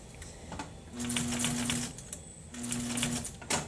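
Quiet, close sewing machine stitching on a box cushion, two short runs with a brief pause between, with soft ticking from the mechanism and no talking.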